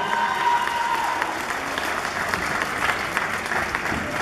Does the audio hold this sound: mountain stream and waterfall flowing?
no